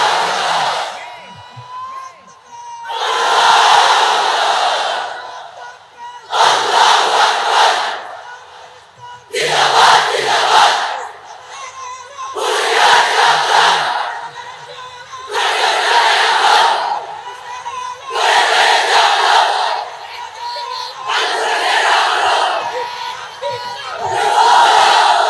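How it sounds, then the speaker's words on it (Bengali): A large crowd at an Islamic religious gathering under a pandal roars takbir in unison, eight or so long, loud collective shouts separated by brief pauses, each call rising and falling in a steady rhythmic chant. "এবার সবাই মিলে 3টা, এক একটা তাকবীরে যাতে এই প্যান্ডেল কেঁপে ওঠে।"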